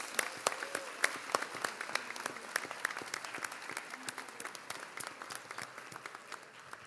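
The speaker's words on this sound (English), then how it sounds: "let's give everybody up here a round of applause" An audience at a scholarship program claps in a fairly soft round of applause, scattered individual claps over a moderate crowd wash that slowly thins out.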